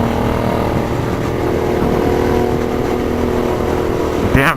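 A 2016 Suzuki Boulevard M109R cruiser motorcycle engine roars steadily up close with a loud, dense, throbbing drone that lasts throughout.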